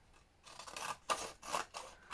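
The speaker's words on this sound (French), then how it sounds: "Je coupe comme pour faire une forme d'enveloppe." Scissors snipping paper into an envelope shape for a Distress ink holder, a few close, quiet crisp cuts in quick succession with no talking.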